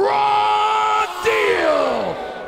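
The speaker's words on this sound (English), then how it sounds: "So a lot of screaming, bro." A bare-knuckle boxing crowd at a BKFC fight night yells and screams together in a loud, sustained roar with rising and falling cheers, and no clear speech.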